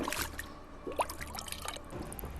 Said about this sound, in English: Some nice sound effects on the toilet bowl.